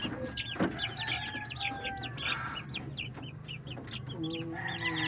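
Two-week-old chicks from a Shamo Asil and Rhode Island Red cross cluck and peep in a busy overlapping chorus, with a rooster-like crow cutting in, close and continuous.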